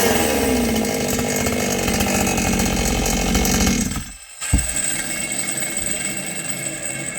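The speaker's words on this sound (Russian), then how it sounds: "Пила набирает слишком много оборотов." A chainsaw screams at high revs during carburetor fuel-mixture adjustment, loud and close and holding a steady whine, then briefly drops off before revving back up to full speed.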